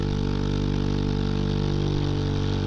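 A motorcycle's exhaust drones steadily and loudly on a mountain highway near Sagada in the Philippines, holding an even engine hum with no speech over it.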